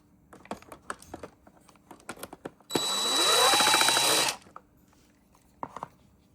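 An impact driver backs screws out of a Eufy S1 robot vacuum with a close, loud whirring rattle lasting under two seconds, surrounded by scattered clicks and handling taps.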